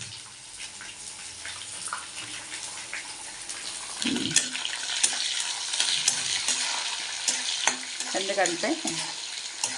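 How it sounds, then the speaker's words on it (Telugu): Crushed ginger and green chillies fry in a pan with a constant crackling sizzle and frequent scraping stir strokes that grow louder midway; a voice speaks briefly. "పచ్చిమిర్చి వేద్దాం"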